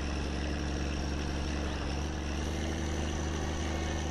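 A truck engine runs steadily in the video game My Summer Car, a loud continuous low rumbling drone that holds level throughout, with no voices over it.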